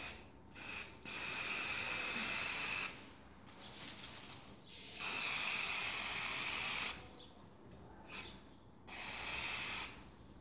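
A spray gun sprays pink colour onto a coconut entremet cake in a series of loud, steady hissing bursts of varying length, separated by short gaps of near silence, close to the listener.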